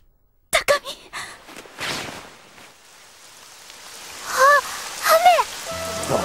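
Rain falling steadily as a drama-CD sound effect, a soft broadband wash with scattered drops, partly under voices speaking.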